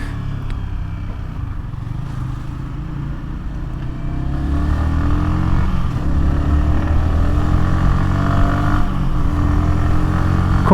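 A Yamaha XSR155 motorcycle engine revs and drops through gears in Tokyo traffic, heard as a continuous close engine drone that rises and falls in pitch, alongside steady wind noise.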